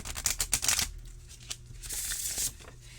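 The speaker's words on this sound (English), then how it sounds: "I do love riffle shuffling." Stiff cardstock oracle cards from an Arthur Rackham Fairy Oracle deck being riffle shuffled, a rapid flurry of crisp flicking and fluttering near and close, followed by softer rustling and a second brief riffle.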